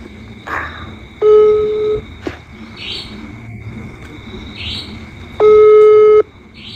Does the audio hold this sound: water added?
no